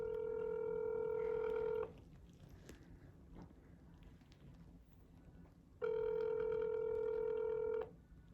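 Telephone dialing tones sound in two steady bursts of about two seconds each, separated by a quieter gap of faint room noise, heard close and alone.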